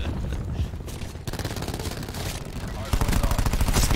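Rapid automatic gunfire from hip-fire shooting in a first-person shooter video game, loud continuous bursts of rattling shots that pause briefly and then resume even louder toward the end.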